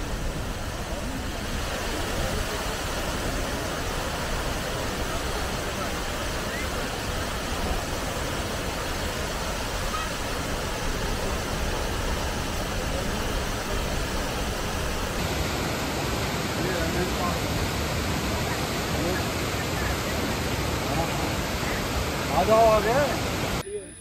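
Athirappilly waterfall in Kerala roars as a broad, constant wash of rushing water, loud and unbroken throughout with no clear talk above it.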